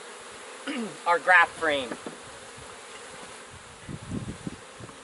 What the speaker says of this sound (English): I'm just going to lightly smoke the bees off the top bar.